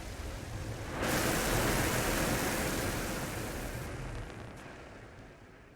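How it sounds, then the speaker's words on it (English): An explosion in Mars Horizon sounds as a sudden broad roaring blast that holds steady for a few seconds and then thins out, noisy and rushing rather than sharp. "that last explosion"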